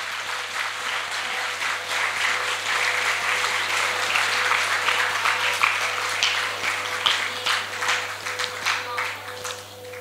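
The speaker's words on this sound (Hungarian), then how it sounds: "Szóljon a taps a Budapesti Holdvilágkamara Színház Pogácsa az Arénában színkörnek és művészeti vezetőjüknek" Sustained audience applause for a student theatre group at a Hungarian youth drama festival, dense steady clapping filling the hall for the full stretch without a break.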